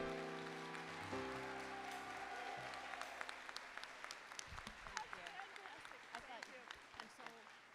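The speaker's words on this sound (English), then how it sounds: "Huge round of applause" A big audience at a women's awards ceremony breaks into sustained applause, dense and steady clapping that follows a spoken announcement and carries on evenly at moderate volume.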